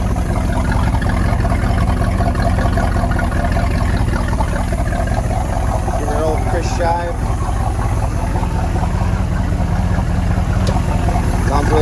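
A loud inboard boat engine, a freshly overhauled 1970 Chevy 307 in a Lyman 23 Offshore, rumbles and idles steadily close by, while someone talks briefly over the noise.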